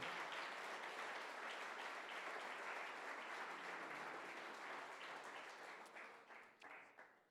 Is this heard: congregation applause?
yes